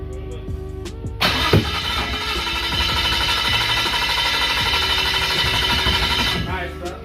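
A Nissan RB25DET engine in an S14 is cranked on a first start attempt, with a steady loud starter-and-engine drone holding for several seconds before cutting off, preceded by short clicks and mechanical noise.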